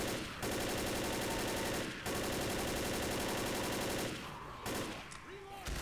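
Rapid automatic gunfire in the Left 4 Dead video game, long dense bursts of shots, loud and continuous, broken by short pauses, with a voice briefly audible near the end.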